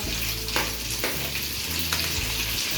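Chopped onion, garlic and ginger fry in a hot pan for prawn pulao, giving a steady, close sizzle with light stirring scrapes and no voices.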